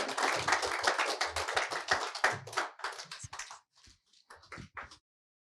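Audience clapping to welcome a guest, stock-market trader Deepak Wadhwa, onto a trading talk stage: dense, fairly close applause for about three and a half seconds that thins to a few scattered claps before stopping.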